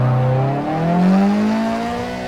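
A car engine revs in a racing video game on a winding road. The pitch sweeps up smoothly as the revs climb, loud and close, over about two seconds, with no speech.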